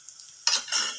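Onions roasting until reddish in a pan for a dhaba-style cashew curry: a quiet pause, then two short bursts of sizzling and spatula scraping, close by.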